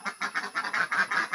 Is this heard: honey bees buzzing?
no